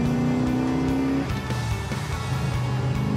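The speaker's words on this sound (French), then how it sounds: "Alors là, on fait une petite accélération." A 1968 Plymouth Road Runner muscle car engine roars loudly, its pitch dropping at a gear change before it climbs again as it accelerates.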